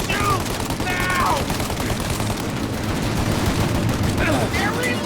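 Sustained gunfire in a Mafia Definitive Edition shootout, loud continuous shots crackling throughout with ricochet-like whines, under shouted voices.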